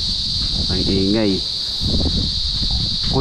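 Crickets chirp in a steady, continuous high drone at an outdoor spot near a building site, loud and unbroken throughout, with people talking over it at moments.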